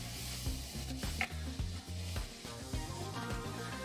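A spoon or spatula scrapes browned bits off a pan bottom into sizzling vegetables for a braised beef stew, with repeated scraping strokes over steady frying and a low tonal backing.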